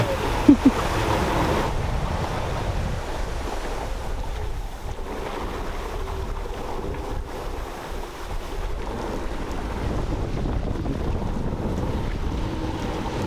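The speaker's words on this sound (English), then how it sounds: "Wind was gusting over 14 knots, so we took the spinnaker down." Gusting wind rushes over a 37-foot Shannon sailboat at sea, a loud continuous roar with microphone buffeting and water wash against the hull, no talking.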